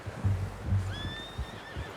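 A horse neighs in the video game Red Dead Redemption 2, a short whinny rising clearly above soft hoof clops and low ambient rumble.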